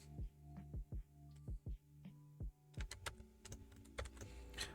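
Keystrokes on a computer keyboard tap out a quiet, irregular rhythm of distinct clicks, sparse at first and then a quicker flurry of typing, close and faint with no talking.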